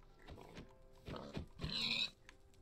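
Pig in the video game Minecraft, a few short, low grunting oinks at a quiet level, separated by brief pauses, with no talk.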